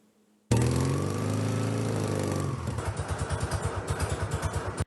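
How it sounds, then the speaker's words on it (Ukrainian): A vintage motorcycle engine roars to life abruptly, revving steadily before settling into a loud, rhythmic chugging idle with pulsing beats, at an exhibition centre. "Залізний звук їхніх двигунів щось особливе"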